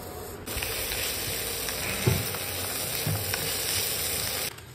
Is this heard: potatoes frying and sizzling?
yes